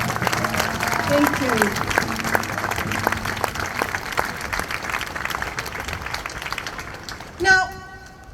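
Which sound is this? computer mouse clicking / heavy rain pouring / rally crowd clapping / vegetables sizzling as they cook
rally crowd clapping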